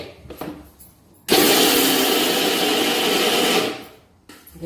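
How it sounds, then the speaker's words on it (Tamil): Mixer grinder coarsely grinding soaked lentils for paruppu usili, a loud steady whirring drone that starts abruptly, runs for about two seconds and then winds down, with quiet kitchen clatter before and after. "இதை நம்ம மறுபடியும் குறைன்னு அரைக்கணும்"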